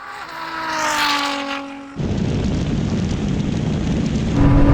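Ferrari SF90 and a 1000 hp Nissan GT-R launching side by side in a drag race: a loud engine note rises, cuts sharply at a gear change, then a dense, roaring surge of acceleration builds again, with no talking.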